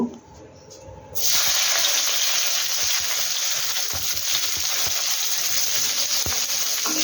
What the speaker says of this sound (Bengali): পেঁয়াজটাকে লাল লাল করে ভেজে নেবে তোমরা।